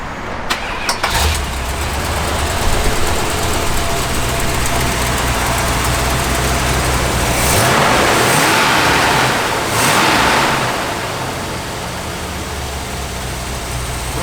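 A 1970 Dodge Challenger R/T SE V8 is started after a brief crank and settles into a steady, loud, close-up idle, with a couple of swelling revs around the middle before easing back to an even rumble.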